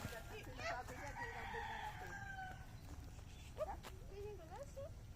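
A rooster on a backyard farm lets out one long, rough, hoarse crow near the start. Quieter clucking follows, and people talk in the background.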